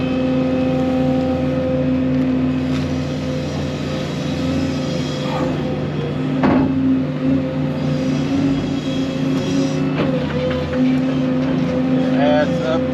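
A skid steer digging dirt for a backyard pool rumbles steadily nearby, its diesel engine revving and bogging as it scoops, with occasional clanks and scrapes and people talking over it.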